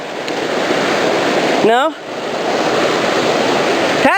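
Steady broadband rush of river current along the Dry Creek trail, loud and continuous throughout, with a brief spoken word cutting in near the middle.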